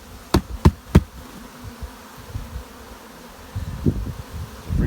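Honey bees hum at an open hive with laying workers, a low droning bed interrupted early by three sharp knocks and later by a few duller bumps.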